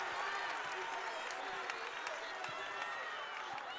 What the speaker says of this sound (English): The crowd bringing the energy for Ohio State.